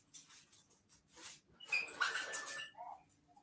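A dog whines faintly in the background, giving thin high whimpers and soft squeaks in short uneven bursts, quiet and somewhat distant.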